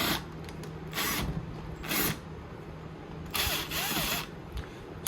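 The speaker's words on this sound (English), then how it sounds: "3 Phillips head screws will take this cover off." A power driver buzzes in short whirring bursts while it backs Phillips head screws out of the carburetor cover on a RedMax EBZ7500 backpack blower, four close runs separated by brief pauses.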